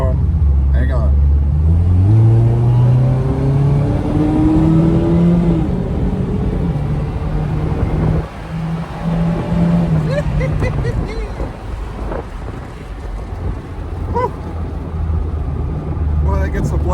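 Twin-engine Honda CRX accelerating hard, a loud close engine roar whose pitch climbs through rising gears, then drops back and settles into a lower rumble, with a person's voice exclaiming over it.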